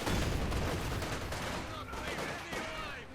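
MG-34 machine gun fire in Company of Heroes 2, a dense, steady clatter of gunfire with other battle noise across the whole stretch, loud and continuous.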